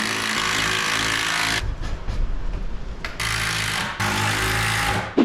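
A power driver sends screws into metal bars for garage shelving, giving long loud whirring runs that stop briefly between screws, close up with no talk.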